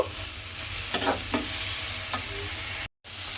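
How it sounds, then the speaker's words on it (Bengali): Pumpkin with ground spices frying in a pan, a soft steady sizzle with a few spatula taps and stirring scrapes, cut by a brief silent gap near the end. "মিশিয়ে আমি কিন্তু আবারও একটু এইভাবে ভাজা ভাজা মতো করে নেব।"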